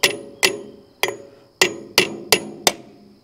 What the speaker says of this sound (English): you might have to tap it. Just a light little tap on the edge.